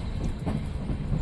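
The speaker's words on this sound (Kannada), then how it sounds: "ಮಡ್ಗಾಂವ್ ಜಂಕ್ಷನಲ್ಲಿ ಎಂಟ್ರಿ ಆಗ್ತಿದೆ ನಮ್ಮ ಟ್ರೈನು" Yesvantpur–Vasco da Gama Express rolling into Madgaon Junction, a steady low rumble of wheels and carriages with faint rhythmic clatter, heard without voices.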